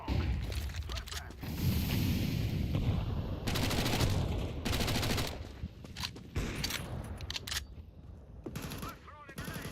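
Rapid automatic gunfire in a video game rattles in dense, loud bursts with several brief gaps, alongside thuds and mechanical clatter, under faint voices.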